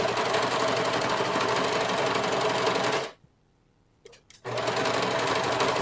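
A sewing machine runs steadily while stitching a pea coat collar, loud and close. It stops for about a second with a brief mechanical clunk, then starts up again at full speed.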